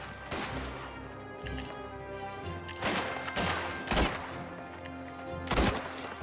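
Gunfire in the video game Mafia: The Old Country, a series of sharp separate shots spaced irregularly about a second apart over a low game soundscape, with no talk.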